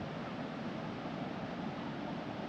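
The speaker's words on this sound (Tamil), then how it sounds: "அந்த பக்கம் ஓடுது தண்ணி கொஞ்சம் அப்படியே வெளியில்." Water rushing steadily at a dam in Brindavan Gardens, Mysore, a constant broadband roar that neither pauses nor changes, with no voices over it.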